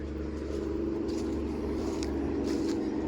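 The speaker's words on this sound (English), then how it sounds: "You can probably hear the traffic going by." Distant road traffic on US 127 rumbles steadily, a continuous low wash of passing cars with no clear breaks.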